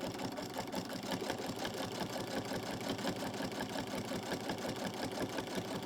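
A sewing machine back stitching through a quilt hums in a fast, even rhythm, a steady low mechanical whir heard close up with no voices.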